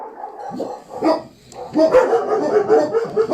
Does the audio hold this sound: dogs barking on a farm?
yes